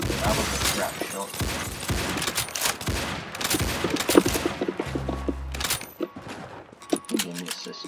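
A shooting video game fires rapid gunshots and bursts, loud and dense, some in quick volleys and others in single cracks, with a voice now and then.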